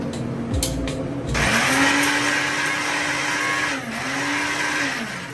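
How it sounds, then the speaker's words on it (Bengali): Mixer grinder whirring at high speed as it powders roasted cardamom and spices, a loud, close motor whine that starts after a few brief bursts and runs steadily with slight dips in pitch as the load shifts. "এবার এটাকে মিক্সিতে গুঁড়ো করবো।"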